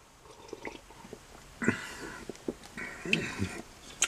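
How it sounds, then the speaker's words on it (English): Quiet, close lip smacks and wet slurping sips of beer, a few separate bursts with soft breathing between them. "Excuse my lips smacking and my slurping."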